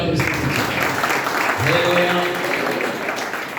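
A church congregation at a revival worship meeting claps together in a dense burst of applause that runs the whole moment, with a voice briefly heard over it.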